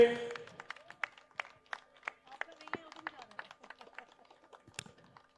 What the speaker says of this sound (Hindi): जोरदार ताली होनी चाहिए तारिक खान के लिए